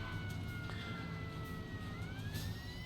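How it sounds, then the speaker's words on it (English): Fire truck siren in Firefighter Simulator: Ignite, a steady wailing tone that slowly rises and shifts pitch, loud and continuous over a dense rumbling engine and road noise bed throughout. "Fire truck is here."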